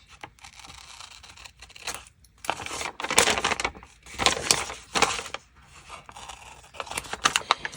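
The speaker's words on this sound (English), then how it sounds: "I'm pulling the paper toward that metal edge so that it's cutting it" Paper being drawn against a metal edge so it tears cleanly, making a series of close, dry rasping scrapes in irregular bursts with brief pauses between strokes.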